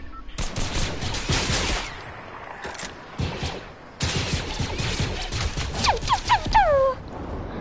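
Gunfire rings out in a video game shootout, with dense bursts of rapid shots and loud cracks running throughout, heard under excited talk from players.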